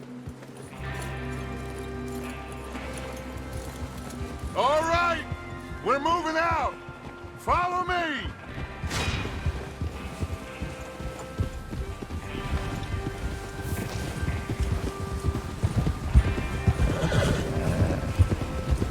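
Horses whinny in three sharp calls, then hooves clip-clop in a steady galloping rhythm in the open-world Western game Red Dead Redemption 2. A man calls out briefly over the animals.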